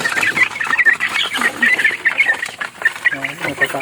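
Chicks cluck and peep while pecking at feed on a farm in the afternoon, with rapid chirps close by and a few lower calls.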